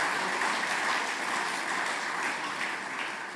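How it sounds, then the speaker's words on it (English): Audience applause at the St. Lucia Business Awards 2025 ceremony, a sustained, dense round of clapping from a large room that holds steady and tapers slightly toward the end. "Give yourself a round of applause."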